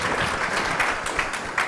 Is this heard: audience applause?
yes